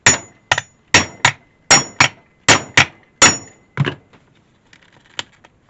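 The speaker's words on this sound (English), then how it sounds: "Just going to take a hammer" A steel hammer strikes a jeweler's anvil punch driving through leather for a knife sheath's belt loop: nine sharp, loud, close taps in an uneven rhythm, followed by a few fainter light taps.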